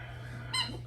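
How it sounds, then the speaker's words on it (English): A dog's squeaky toy lets out one brief, bright squeak midway through, over a steady low hum. "Toy for Kobe, as I'm trying to avoid the squeaks"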